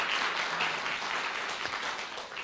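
A room full of people clapping steadily at a UK sickle cell community event as a hospital nurse comes up, the sustained applause somewhat distant and fading slightly toward the end, with no voices over it.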